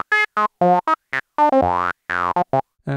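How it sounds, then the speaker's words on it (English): Roland SH-101 synthesizer with a tuned, resonant filter giving semi-vocal wow-wow tones, a string of short separate notes with a few longer sweeping ones, loud and close, played alone. "You can hear sort of a wow-wow effect."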